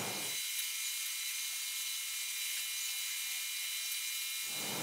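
Small servo motors inside a violin-playing skeleton Halloween prop whir in a steady, high-pitched electric buzz that starts abruptly, holds evenly for about four seconds, then cuts off.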